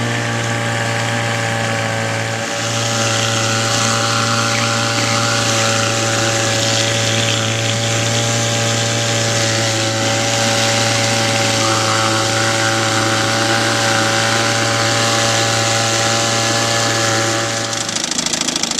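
A 1959 Johnson 3 hp outboard motor idles on a canoe, a loud, steady, unbroken close-up drone with an even low hum that continues throughout, no talk.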